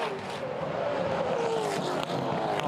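Race cars accelerating on a circuit at a green-flag restart, a dense, loud, sustained engine roar with a rising whine from several cars running together, the sound steady throughout with no one speaking over it.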